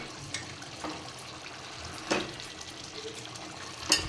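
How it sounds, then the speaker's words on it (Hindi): Rice is washed by hand under running tap water in a home kitchen, with a soft steady trickle broken by a few light splashes and clinks. "यहाँ पे चावल धो रहे हैं।"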